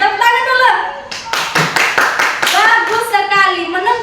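Children clap their hands together in a classroom, a burst of claps rising in the middle while a teacher's voice and kids' speech carry on over and around it.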